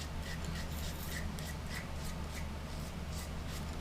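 Cloth or brush rubbing whitewash or wood stain onto wooden discs, a soft continuous scratchy rubbing with light repeated strokes, faint and close.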